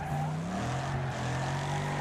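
Racing cars in the demolition derby game Wreckfest roar with a steady engine drone, and a rising whine suggests tires sliding as a car accelerates, loud and close throughout.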